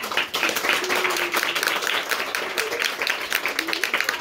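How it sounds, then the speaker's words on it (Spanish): A crowd claps steadily at a Mother's Day celebration in a small school in Joyabaj, Guatemala, a dense patter of hands filling the room, with faint voices underneath. "Aplausos para doña Tomasita."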